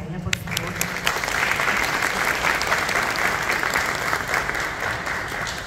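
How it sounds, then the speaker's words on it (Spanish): Sustained crowd applause at a Susan G. Komen Race for the Cure event, steady and dense for several seconds, with voices faintly mixed in beneath the clapping. "Un aplauso para ella, por favor."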